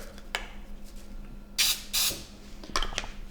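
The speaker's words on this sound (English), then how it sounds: "let's go with some cooking spray" Short hissing bursts from a spray can, two close together then one more, each lasting under half a second against a quiet background.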